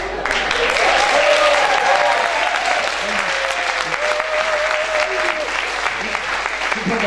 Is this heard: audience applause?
yes